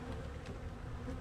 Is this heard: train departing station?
no